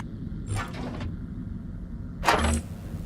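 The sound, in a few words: door hinges opening in the video game Starbase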